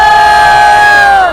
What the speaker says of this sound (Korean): 자, 큰 함성 부탁합니다.